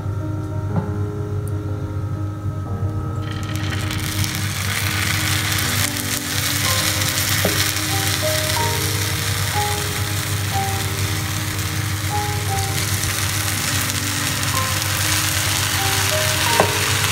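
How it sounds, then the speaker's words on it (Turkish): Lukewarm syrup poured over hot, freshly baked kadayıf, giving a continuous broad sizzle and crackle close up, with no voices. "Kadayıfımız sıcak, şerbetimiz ılık vaziyette ve şerbetini döküyorum."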